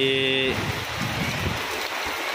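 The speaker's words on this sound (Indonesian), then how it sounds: "alhamdulillah turun hujan ya teman-teman di kota Bekasi" Rain falls on a city street in Bekasi beside a street-food cart, a steady broadband hiss that settles in after a brief tonal sound at the start and continues to the end.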